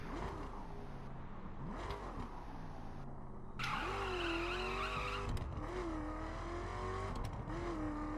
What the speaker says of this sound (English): here's the full stock 0 to 60 in the Camaro.